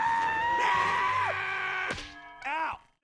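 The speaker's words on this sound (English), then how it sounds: "Two guys wake up in bed together and scream at each other." Two men in a film scene, waking up in bed together, scream at each other: a long loud sustained yell from one, then a sharp hit, and a shorter rising scream from the other.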